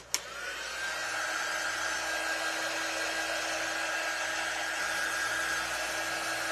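A hair dryer blows steadily on a Halloween craft piece, a continuous loud whine and rush of air after a brief click at the start, running alone without talk.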